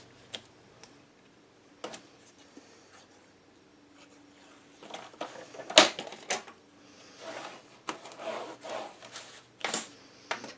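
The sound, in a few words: trimming paper for a mini album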